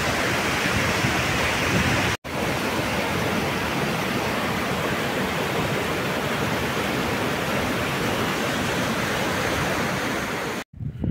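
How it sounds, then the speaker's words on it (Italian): A waterfall roars in a loud, constant rush of falling water, near and unbroken, with no voices. "riuscire a vedere almeno la prima cascata"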